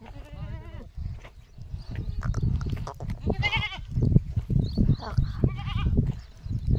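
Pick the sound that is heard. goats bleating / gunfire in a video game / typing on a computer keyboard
goats bleating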